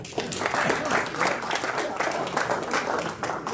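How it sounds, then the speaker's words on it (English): People seated around tables at a Rotary club meeting break into brief, dense applause, a steady patter of many hands mixed with crowd murmur. "Big round of applause for this table."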